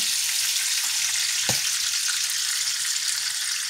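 A steak, a filet, sizzles steadily and loudly in a hot pan as it is basted, with a dense continuous crackle and a single short knock partway through; nobody speaks.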